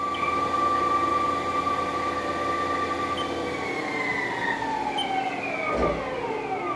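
Haas ST-40 CNC chucker lathe spindle running in low range at a few hundred RPM, a steady mechanical whine with tonal harmonics that shift slightly as the speed changes, loud and continuous with no talking.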